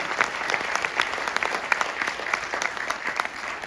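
An audience at a seminar in Delhi claps for an honoured guest, with dense, even applause from many hands that holds steady throughout.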